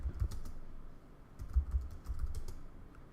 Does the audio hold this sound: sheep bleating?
no